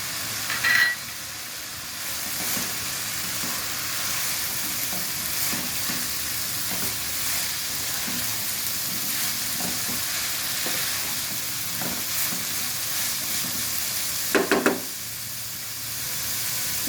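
Green chillies frying in a pan give a constant soft sizzle and hiss, broken by occasional scrapes of stirring and a brief louder clatter near the end.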